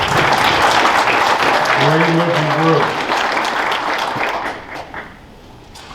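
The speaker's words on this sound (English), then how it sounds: "how about a big round of applause for our nominees?" An audience at a county player-of-the-year banquet applauds the nominees, loud clapping filling the room and then tapering off while a voice speaks briefly over it.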